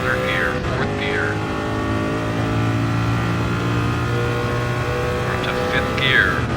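Race car engine climbing through third and fourth gear on a fast lap, a loud steady mid-pitched roar with rising whines at each upshift, heard up close from onboard.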